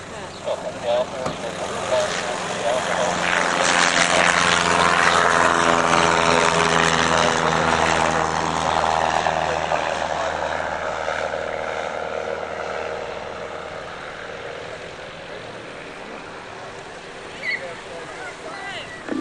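A propeller-driven aircraft resembling a P-51 Mustang flies past at an air festival, its engine drone swelling loudly over several seconds, then slowly fading as it moves away.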